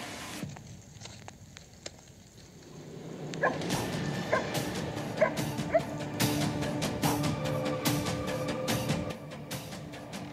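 A fire brigade forest-rescue search dog from Magé, Brazil, barks and yips in several short bursts at moderate distance. The barking grows busier in the second half of the clip against a steady background din.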